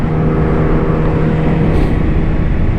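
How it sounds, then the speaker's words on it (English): A motorcycle in first gear revving and accelerating for a power wheelie, a loud, continuous engine roar heard up close throughout. "I'm going to show y'all a quick demonstration of doing power wheelie in first gear"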